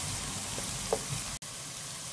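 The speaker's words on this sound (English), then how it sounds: "So I want this seasoning to saute a little to release that nice aroma." Jamaican seasoning with hot pepper sautés in a pan with a soft, even hiss of oil and a faint tap or two. The sound drops out for a moment near the end, with no voices.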